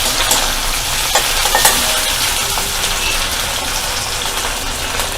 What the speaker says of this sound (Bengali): এবার টমেটোগুলো দিয়ে দিলাম, ছোট করে কাটা টমেটো